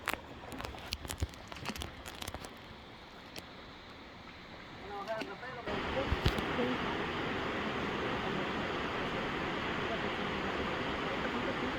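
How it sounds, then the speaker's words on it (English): Tamul waterfall roars as a broad steady rush of falling water, swelling louder and closer midway after scattered splashes and knocks from a canoe, with no clear talk. "Here we are catching the first few glimpses of the waterfall"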